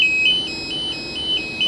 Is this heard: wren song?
no